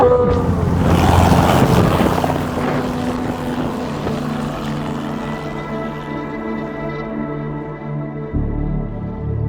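A helicopter in a video game flies with a loud droning rotor and engine hum that gradually settles into a steady tonal whine, with a sharp low thump near the end.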